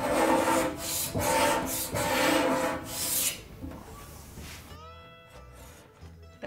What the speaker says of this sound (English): scraped off all the old glue with a razor scraper